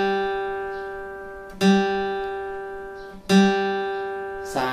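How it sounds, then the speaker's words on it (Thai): Guitar second string plucked open as a B tuning note, a few clear attacks spaced apart, each sustaining and decaying gently, close up and otherwise quiet. "สาย2เสียง B ครับผม"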